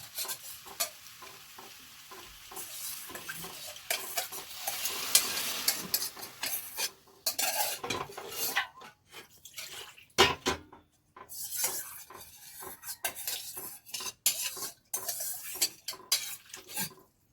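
A spoon stirs masala-coated chicken for curry in a metal pan, scraping and clinking in irregular bursts with a faint sizzle, close and fairly loud with brief pauses between strokes.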